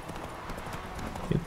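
Hooves of a fast horse clatter in a steady clip-clop rhythm in The Witcher 3, moderately loud with faint background game sound.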